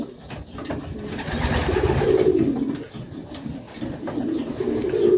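Close, continuous low cooing from several breeding pigeons and young birds in a loft overlaps in soft, throaty rolls with no talk.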